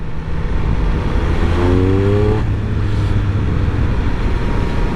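A 2021 Triumph Speed Triple 1200 RS motorcycle in sport mode pulls through its gears, the engine tone rising in sweeps before easing off, loud and close against a continuous roar of wind.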